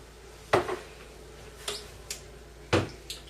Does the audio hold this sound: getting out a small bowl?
yes